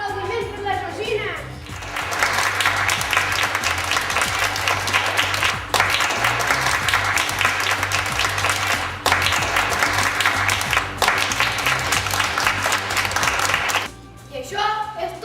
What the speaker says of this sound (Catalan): Un aplaudiment per la Georgina.